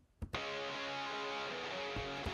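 Two layered alternative rock guitar tracks, both compressed and EQ'd with the lows cut, cleaner and tighter. After a brief quiet start and a couple of sharp hits, a thick distorted wall of chords sustains steadily.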